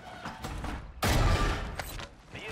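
In the video game Call of Duty Warzone, a single sharp sniper shot cracks loudly. Fainter game sounds come before and after it.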